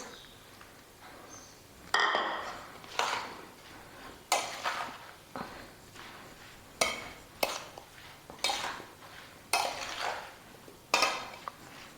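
A spoon stirs fruit chaat ingredients in a bowl, giving a series of soft clinks and scrapes at an uneven, roughly second-long rhythm. The sounds are close but fairly quiet.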